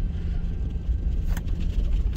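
A car passes on a remote road near Mills Canyon, New Mexico, a steady low engine rumble with a brief brighter swell midway, fairly close and heard alone.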